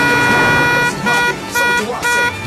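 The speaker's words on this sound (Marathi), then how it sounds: "हॉर्न वाजवला जात असल्याचं चित्र चौका चौकात पाहायला मिळतं" Car horns honk at a busy traffic signal in Pune. Loud, overlapping toots in short bursts sound close over the street noise.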